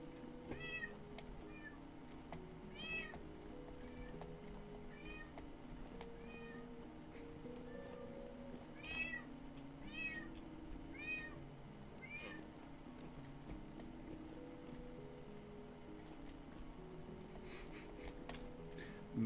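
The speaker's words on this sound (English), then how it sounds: "Man, that cat's loud." A cat outside a window meows loudly and repeatedly, a long series of insistent calls at irregular intervals over a steady low hum, with no one talking.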